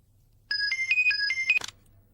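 A phone rings for an incoming call with a short, bright melodic ringtone phrase of a few rising and falling beeps, loud and clear against quiet, cutting off after about a second.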